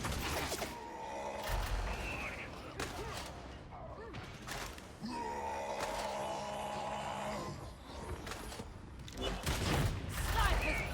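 Sniper gunfire in a video game, several sharp shots and clanking, ratcheting weapon noises spread irregularly through busy game sound.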